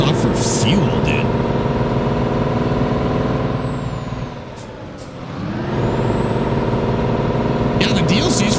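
A simulated truck engine from Euro Truck Simulator 2 drones steadily and loudly, dipping briefly in the middle before returning to a full rumble, with a thin high whine and occasional clicks and hisses.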